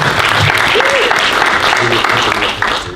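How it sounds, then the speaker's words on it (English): Dense, loud applause from a film festival audience fills the whole stretch, steady and continuous with a crowd murmur underneath, tapering slightly at the end. "let's clap it up for Scott Allen Tucker."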